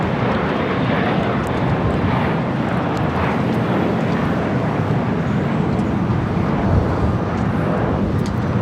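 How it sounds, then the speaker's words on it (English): Atlas Air's 24-year-old Boeing 747-400 freighter passes over the airport with a loud, continuous, deep jet roar that holds steady from start to finish. "Now flying over the airport, this is Atlas Air 8863 coming in from Anchorage, Alaska. It's a 24-year-old 747-400 freighter."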